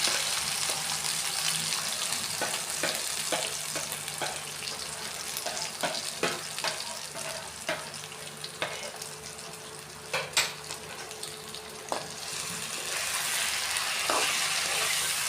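Ash gourd and chicken for a bhapa cooked with bay leaf and black cumin, frying and being stirred in a pan, giving a steady sizzle broken by scraping clinks and taps of the utensil.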